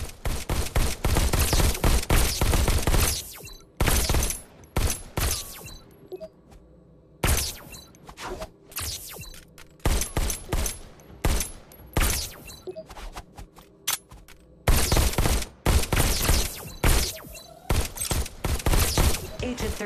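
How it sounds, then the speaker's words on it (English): Pistol shots ring out in the Robo Recall VR game, many loud sharp reports fired in rapid bursts and volleys with brief pauses between clusters, close and dominant throughout. "Just squeeze the trigger to shoot."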